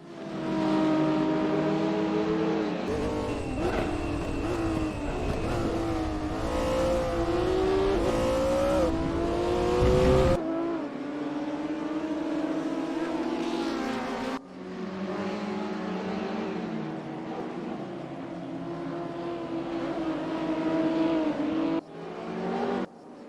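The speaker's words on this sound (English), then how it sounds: "I think this must be one of the Touring Classic cars, this BMW" A BMW Touring Classic race car in a racing video game at Paul Ricard runs its engine loud and close throughout, climbing and falling through gear changes with abrupt cuts and shifts in pitch.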